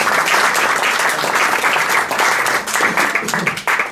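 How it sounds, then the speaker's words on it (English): Loud, sustained applause from a dinner audience at a PATA advocacy event, many hands clapping close and continuously, thinning slightly toward the end. "Do I hear a round of applause?"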